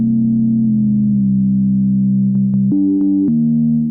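Two sustained electronic tones from an analog synth's two oscillators, steady and loud, shifting pitch by whole tones a few times with brief clicks as settings change.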